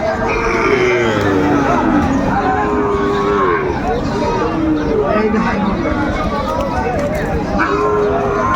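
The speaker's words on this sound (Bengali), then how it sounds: "চমৎকার গাবি বাছুর কালেকশন করছে বেলাল ভাই" Cows with calves mooing at a busy cattle market in Raniganj, Dinajpur, repeated loud nearby lows under constant crowd chatter and people talking.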